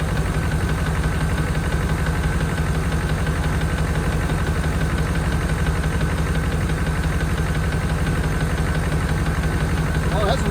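A 1992 Chevrolet Caprice wagon engine, a cheap parts car revived from a seized state, idles continuously up close with a steady rhythmic mechanical clatter and vibration for the whole stretch.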